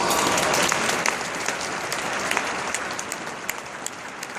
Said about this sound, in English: I would appreciate it if you can give them a big round of applause